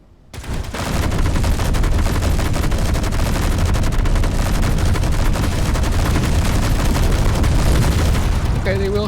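Sustained heavy gunfire from enemy fighters in the space game Space Engineers, a loud, continuous rapid barrage that starts abruptly and runs without pause.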